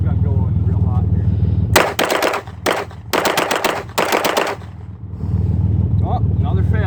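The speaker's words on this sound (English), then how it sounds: "I'm gonna try get this gun going real hot here" Rapid strings of loud gunshots from a Bersa TPR9 pistol firing Winchester ammunition, several quick bursts with brief pauses, cutting through a steady low hum and occasional talk before and after.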